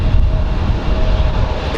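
Boeing 787 Dreamliner airliner at Raleigh Durham airport on a windy day, a loud broad engine roar with deep rumble, steady and close throughout the brief moment.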